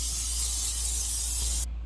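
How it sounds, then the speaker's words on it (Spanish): Aerosol cooking oil sprayed into a flan mold, a steady close hiss lasting under two seconds before cutting off abruptly. "Ahora vamos a agregarle aceite en aerosol a este recipiente."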